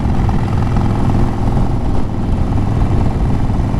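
A restored Harley-Davidson motorcycle, a salvage-auction bike with a dented tank and scratched pipes, runs steadily with a loud, dense engine rumble at close range and no talking.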